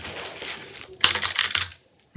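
Keys on an Evofox Ronin mechanical keyboard clatter in a quick burst of clicky presses lasting about a second, close up, followed by a brief pause and one more thump.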